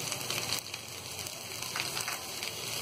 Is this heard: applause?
no